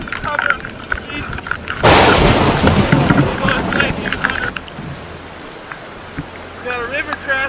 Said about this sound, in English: Thunder's getting real loud.